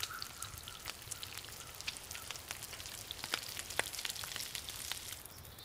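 Raw rabbit meat cooking over a fire in the video game The Long Dark gives a steady, soft sizzling crackle with scattered pops throughout, fairly quiet and alone.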